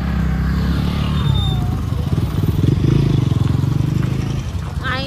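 Motorbikes move through a busy car parking area near Varkala Beach in Kerala, a loud, steady engine rumble with revving pulses that continues for the whole stretch and stays close.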